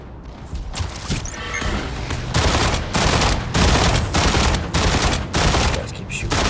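Dense, continuous gunfire from battling mechs in the Mech Arena video game, loud rapid bursts and explosive crashes layered together, with a voice faintly underneath.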